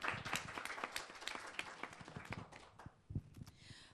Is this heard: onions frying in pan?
no